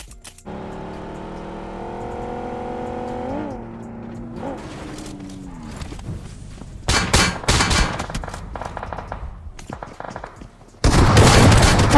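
Gunfire rattles through a battle royale video game match, first under a steady synth tone, then as dense bursts of rapid shots and a loud, sustained volley at the end.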